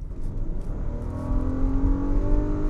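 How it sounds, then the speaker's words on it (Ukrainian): A Volkswagen Atlas crossover's V6 engine revs loud and close, a steady growl rising in pitch as it climbs, with no talk over it. "ось так звучить цей V6"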